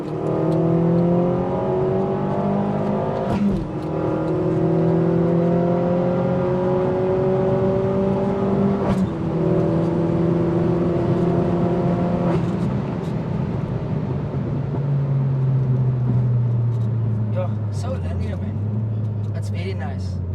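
A turbocharged Opel Corsa OPC with an A16LER engine and hybrid turbo accelerates hard through repeated gear pulls, its engine note climbing steadily and dropping at each shift, loud and close throughout with no talk over it.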